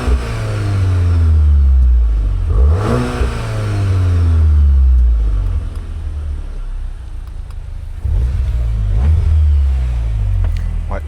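A tuned BMW 440i engine and exhaust revving while driving, repeated loud rises and falls in pitch with gear changes, and people talking over it.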